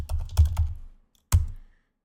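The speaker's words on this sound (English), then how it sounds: "I go here and I type in digital marketing" Quick bursts of clacking keystrokes on a computer keyboard, two clusters of rapid typing separated by a short pause, close and clear with no talking.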